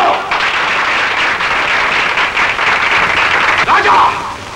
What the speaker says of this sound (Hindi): अबे ओ किराए के चमचो, सब मर गए क्या? ताली बजाओ।